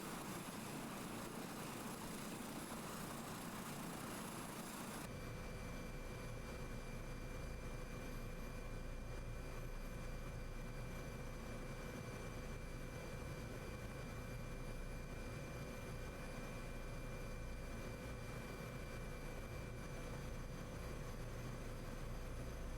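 A helicopter in a flight simulator game, reportedly buggy and slippery to fly, drones steadily with a constant rotor and engine hum that shifts in tone after the first few seconds, with no talking.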